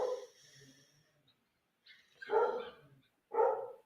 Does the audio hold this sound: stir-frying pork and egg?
no